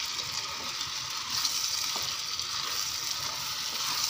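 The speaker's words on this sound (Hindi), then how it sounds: "अब हम इसको अच्छे से मिक्स कर देंगे ज़रा" A vegetable dish sizzles and fries steadily in a pan while being stirred and mixed, a continuous close hiss with soft scraping movements throughout and no talking.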